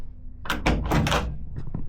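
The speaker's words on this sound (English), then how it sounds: "Doors shut nicely, nice gap." A Classic Mini Saloon car door being shut, giving a quick cluster of solid, close thunks and a short rattle in an otherwise quiet space.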